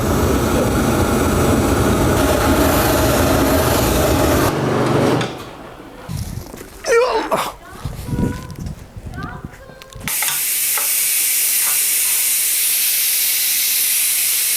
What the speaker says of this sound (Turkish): Bak buharı görüyor musun?